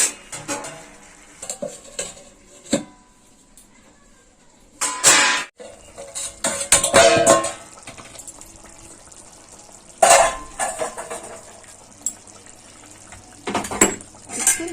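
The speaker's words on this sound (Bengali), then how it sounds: "নাড়িয়ে নেব।" Chicken kosha stirred in a pot with a metal spoon, irregular scraping and clanking bursts between quieter stretches, a faint sizzle and a brief cough, no talk.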